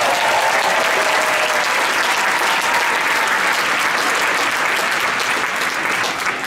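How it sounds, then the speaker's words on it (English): Loud, sustained audience applause fills a school auditorium after a middle school jazz band's performance at a pops and jazz concert, a thick, even roar of many hands clapping throughout. "Let's give them a big round of applause."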